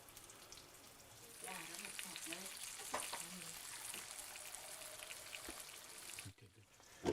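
Veal scallopini frying in a pan: a faint crackling sizzle rising as the cutlets go in, with a few light taps, low and steady before dropping off near the end.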